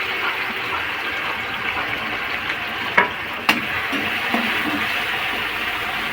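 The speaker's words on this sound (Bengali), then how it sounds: "সঙ্গে আদাটাও ফ্রাই করে নেব।" Ginger frying in a pan for peas ghugni gives a loud, steady, close sizzle, broken by a couple of sharp clicks from stirring, with no talking.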